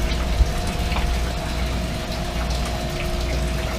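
A pump runs steadily in a water treatment tank holding about 400 gallons, giving a constant low hum with splashing and trickling water over it.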